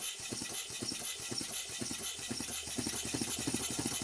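A large model paddle steamer engine runs in a workshop, giving a steady rhythmic chuffing and knocking beat with a low, continuous mechanical drone underneath, close and fairly loud throughout.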